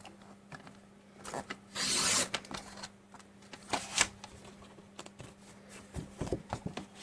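Ramen noodle packaging paper being trimmed by hand, close-up scraping and rustling with a louder cutting burst near the start and scattered small crinkles and taps afterward, fairly quiet with no voices.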